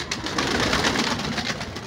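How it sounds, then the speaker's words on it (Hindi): A pigeon perched nearby outdoors gives soft, low cooing that repeats in a steady rhythm over light background noise. "एक कबूतर ऊपर बैठा हुआ है"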